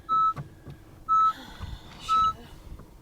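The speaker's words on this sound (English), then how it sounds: "You hear all these beeps?" Three sharp electronic beeps from a Honda NSX repeat about once a second, clear and close, with faint low rumbling and handling noise between them.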